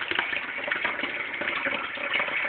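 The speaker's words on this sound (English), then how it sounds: "if you'll take this and just strain the water out, and here's your paper pulp" Water strains through a strainer out of pulp made from recycled mail, a steady, dense rushing and trickling gush that runs without a break.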